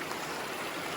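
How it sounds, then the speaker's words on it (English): Creek water flowing steadily at a crossing in cold, snowy northern Idaho backcountry, a continuous close rushing wash with no pauses. "I think I crossed the creek right here."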